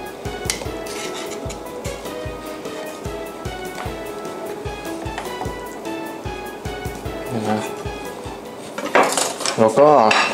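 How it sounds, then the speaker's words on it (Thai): Metal cutlery clinks and scrapes against a plate in a steady run of small taps as a knife slices through turmeric grilled chicken, ending in louder clattering. "ผมก็จะหั่นลงจานแล้ว"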